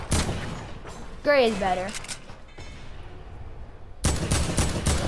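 Rapid gunfire bursts in Fortnite zone wars, loud crackling volleys at the start and again near the end, with a person speaking and an excited voice in between.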